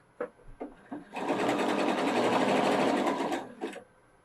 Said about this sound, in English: let's all stitch a couple inches of zigzag